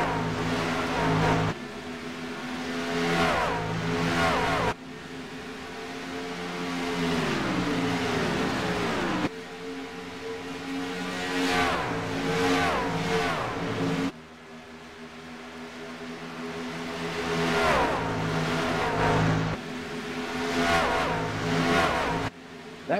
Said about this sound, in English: She can still hear the trucks, but she can't hear your voice.